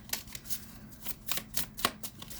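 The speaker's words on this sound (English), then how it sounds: "I just want to shuffle them a little bit." A deck of playing cards being shuffled for a tarot-style pick-a-pile love reading, with several short riffling bursts in an uneven rhythm, close and fairly soft, and no talking.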